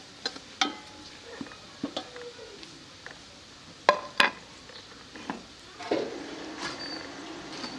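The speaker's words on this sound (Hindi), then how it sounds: "इसे थोड़ा सा फ्राई कर लेंगे" Whole spices frying in a pot for pulao: star anise, black cardamom, cumin, cloves, cinnamon and bay leaf, with a soft sizzle under scattered stirring scrapes and metal clinks, close and fairly quiet.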